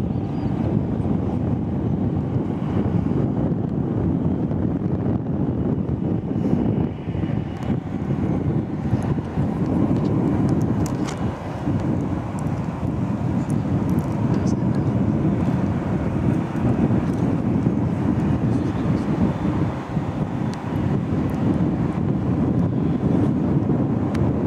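A Boeing 787 Dreamliner on final approach to land at Manchester Airport, heard as a steady, broad engine roar mixed with heavy wind buffeting on the microphone, continuous for the whole stretch with no talk.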